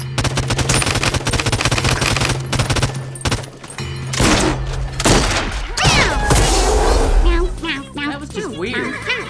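Gunfire in the video game Realm Royale rattles in rapid automatic bursts and single shots, with booms and impacts mixed in. Loud and dense throughout, under a player's voice.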